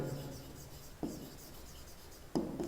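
Chalk or marker writing on a classroom board during a biology lesson, heard as soft scratchy strokes with two brief, sharper contacts, fairly quiet and with no talking.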